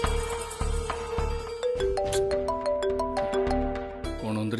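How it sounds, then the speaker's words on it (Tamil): A mobile phone rings with a melodic electronic tune of stepping tones, loud and clear in a Tamil TV serial scene, with sparse voices around it. "அபி தானே ஃபோன் பண்றா."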